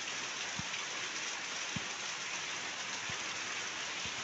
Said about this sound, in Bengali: দেখো ঝমঝম করে বৃষ্টি পড়ছে